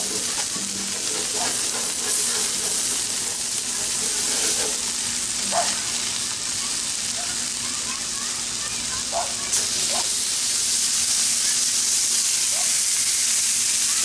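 Butter frying on a Blackstone griddle outdoors, giving a steady, even sizzle and hiss throughout with a few faint pops and light clinks.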